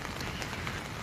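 Heavy rain pours down on a farm in a dense, even hiss of drops striking surfaces, faint and unbroken throughout, with no talking.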